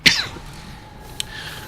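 A single sharp cough, close and loud at the start, followed by a faint second short burst, during a StarCraft 2 game session.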